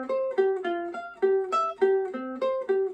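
Ukulele plucking the first section of a song's intro twice through, a steady run of bright single notes in an even repeating pattern, close and clean without talk.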